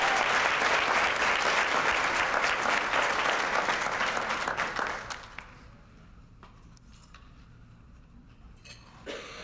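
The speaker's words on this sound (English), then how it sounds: "please give a round of applause to Karen Amato as she comes up" Audience applause at a high school graduation celebration, loud and dense for about five seconds, then fading into scattered claps, a faint clink and low room noise.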